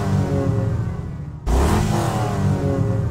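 Ford TS50 engine revving in the Need for Speed Hot Pursuit 2 game menu, a loud, steady mid-pitched drone that surges sharply into a harder, rougher rev partway through.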